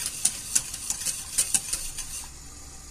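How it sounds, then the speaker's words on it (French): A spoon stirs bolognese sauce in a pan, giving a series of quick, sharp scrapes and clinks against the metal over a soft sizzle, irregular and close, with no talking. "Voilà, et on remue la sauce."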